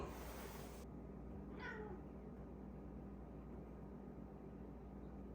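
A single short cat meow, faint and somewhat distant, over a steady background hum.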